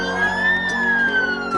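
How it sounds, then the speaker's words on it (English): An ambulance siren sounds on a cleared road in Hong Kong, a loud, continuous wailing tone that slowly rises and falls, heard close and mostly on its own. "The first vehicle on the cleared road, an ambulance"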